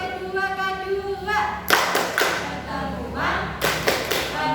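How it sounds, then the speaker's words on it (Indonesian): A women's family-skills group in Balerejo claps in unison during a rhythmic clapping chant, loud bursts of hands following sung voices in a close indoor setting. "Sebelum permainan kita tepuk P2K dulu ya."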